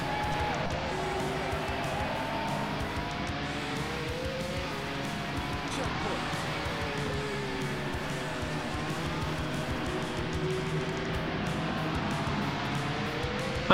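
A race car drifting in the Nintendo Switch game Speedway Bundle, engine droning steadily with tire squeal and skidding that rises and falls, continuous and mid-loud throughout.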